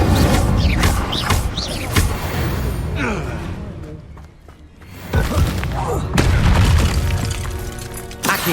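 Hogwarts Legacy spell-casting, including the Incendio fire spell, bursts out in loud whooshes, booming thuds and crackling impacts over a constant dense game soundtrack, easing briefly midway before surging again.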